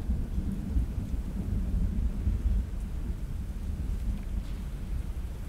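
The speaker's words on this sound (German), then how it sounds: "die Tür öffnet sich mit einem Grollen" In the game DREDGE, the heavy door of an old lighthouse grinds open with a deep, continuous low rumble, steady and dark for several seconds with no voices over it.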